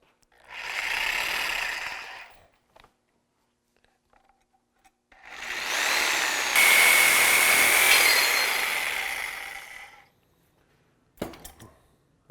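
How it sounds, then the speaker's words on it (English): A power tool cuts through a metal bracket during an off-road suspension lift install, in two loud sustained whining bursts, the second longer with a shrill rising squeal, separated by quiet gaps and a few clicks. "We've got it drawn out, now we're ready to start cutting."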